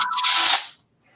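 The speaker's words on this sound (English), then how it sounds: "Power drill toilet cleaner." A power drill spins a toilet brush attachment in a brief, loud whirring burst that lasts about half a second and then cuts off to near silence.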